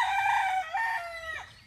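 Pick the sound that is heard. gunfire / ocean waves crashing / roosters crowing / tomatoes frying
roosters crowing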